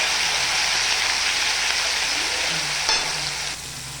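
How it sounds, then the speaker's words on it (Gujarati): Green masala sizzles in hot oil with fenugreek seeds and asafoetida for methi dal, a steady loud crackling fry that holds close and continuous, then drops slightly near the end. "લીલો મસાલો તેલમાં નાખવો આ રીતે અને થોડો ફ્રાય કરી લેવો."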